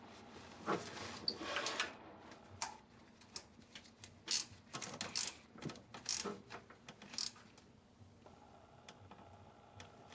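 Ratchet wrench tightening a bolt on the engine of a 2008 Acura MDX, a series of quick clicking strokes in uneven bursts, close but fairly quiet with faint background hum.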